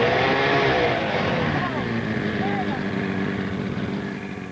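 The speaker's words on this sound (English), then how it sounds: "Bruce the goose has fallen in love with this 80 horsepower motor" An 80 horsepower boat motor runs steadily nearby, a loud droning hum with rising whine tones that fades slightly toward the end.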